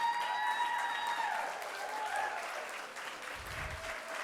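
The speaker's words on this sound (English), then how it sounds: "give yourselves and each other who have come tonight a round of applause for standing up for women's equality" An audience at a Women's Equality Day evening event applauds together. The clapping is steady and moderately loud, thins slightly toward the end, and no voices are heard over it.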